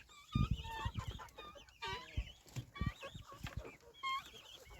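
Hens cluck and chatter continuously in a farm coop, with overlapping close calls and short squawks in an uneven rhythm, moderately loud against quiet surroundings.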